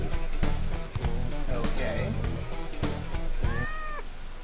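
A cartoonish cat meows in the Bat Rats video game amid busy, loud game music and effects, with a rising-falling meow near the end.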